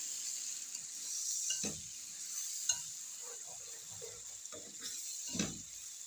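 Sliced round tomatoes being stirred in a pan for a spiced potato dish, with a steady faint sizzle underneath and a few soft scraping strokes of the spoon, close and quiet.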